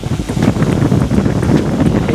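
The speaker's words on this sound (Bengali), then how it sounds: "শান্তির বাতাস, অনেক কিন্তু বাতাস, তাই না?" Strong wind blowing outdoors in the Bangladeshi countryside, buffeting the microphone with a loud, gusty low roar for a couple of seconds.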